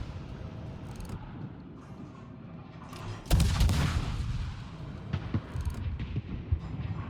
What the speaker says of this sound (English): so I'll just keep shooting.